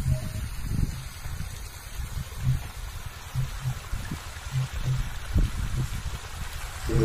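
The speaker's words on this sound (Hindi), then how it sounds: "गेहूँ में ये पानी लगा रहे हैं अपने में" Irrigation water from an 8 hp pump set pouring through a new plastic pipe into a wheat field, a steady rushing, gurgling flow with no talk.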